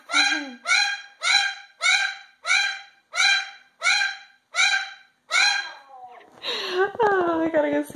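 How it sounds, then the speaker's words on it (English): Pet cockatoo barking like a dog, nine evenly spaced loud bark-like calls in a row, followed by a harsher, drawn-out screech at the end, close and with no other sounds. "I gotta go see what my bird's barking at."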